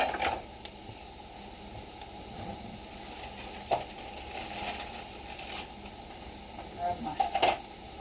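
Bechamel sauce base for a green bean casserole cooking in a pan, with a soft steady sizzle and occasional stirring scrapes and clinks against the pan, fairly quiet.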